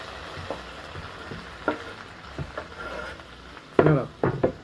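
Tomatoes frying in a pan, a low steady sizzle broken by several clacks and scrapes of stirring and pan contact, louder toward the end.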